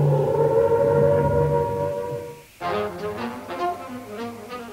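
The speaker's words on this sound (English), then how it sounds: "With sirens replacing flashing lamps, they doubled up as air raid warning posts." Wartime air raid warning siren mounted on a police box, a loud sustained wailing tone that cuts off abruptly for a moment and then resumes with shifting, wavering pitches.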